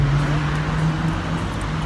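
Street traffic in Rome sends a steady low engine hum and road rumble from nearby cars, an even drone with no clear break.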